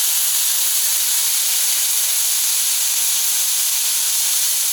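Onion smash burger patties sizzle on a Camp Chef FTG600 flat top grill outdoors in extreme cold. The sizzle is loud and steady, a continuous bright hiss held close from start to end, with no voices.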